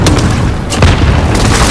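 Loud, close airstrike explosions in Call of Duty: Modern Warfare: a series of heavy booms with rumbling low-end blasts that crowd together across the short stretch, with no voices over them.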